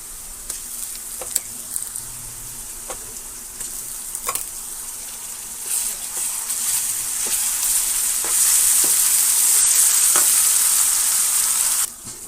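Masala frying for a chicken curry, with turmeric and ginger paste added: a steady close sizzle with occasional stirring clicks from the pan, growing louder and denser toward the end before easing off. No voices.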